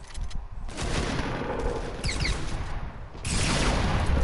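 Video game gunfire crackles in dense rapid bursts, a sustained fusillade of close, loud shots with brief lulls and a heavier volley near the end, no voices over it.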